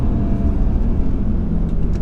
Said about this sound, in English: some lovely, lovely 5-cylinder engine notes